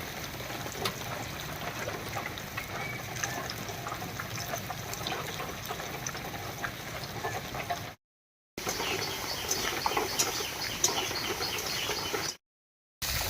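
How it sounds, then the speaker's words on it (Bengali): Water is poured into a cooking pot holding salt, turmeric and raw mustard oil, a steady close trickle lasting several seconds, briefly cut off twice, with faint bird chirps in the background. "এর মধ্যে দিয়ে দেবো একটুখানি জল"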